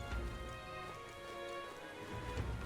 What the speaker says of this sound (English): This bloody rain.